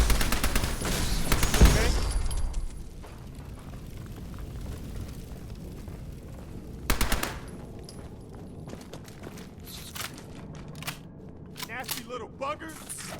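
Bursts of gunfire in Fallout 4, with a loud close volley early on, another sharp burst near the middle and scattered shots later, mixed under game sounds and a brief spoken word.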